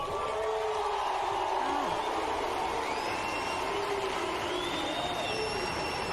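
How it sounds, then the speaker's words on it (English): A large tennis crowd at an Andy Murray match in Australia fills the air with a sustained, distant roar of jeering and calling out, drawn-out hoots rising over a dense, steady murmur. "Sounds like people are booing."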